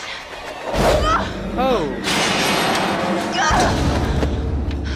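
Heavy thuds and crashes as a character falls and lands in the video game Until Dawn, with a loud impact near the start and another later, mixed with game effects and a man's exclamations over the top.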